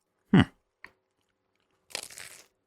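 Biting into crunchy Detroit-style deep dish pizza with burnt cheese gives a sharp, loud close crunch, a small click, then a second burst of crackly chewing.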